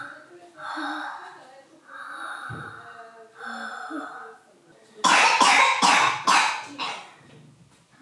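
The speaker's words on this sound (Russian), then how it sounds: "Вот такой кашель." A young girl coughs during a doctor's examination for a chesty cough with wheezing, a burst of several harsh, close coughs in quick succession after a stretch of heavy breathing and adult talking.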